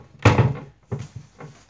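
A child's drawer in a bedroom is pushed shut with one solid wooden thunk, followed by a few softer knocks and rattles as it settles, close and alone with no talk.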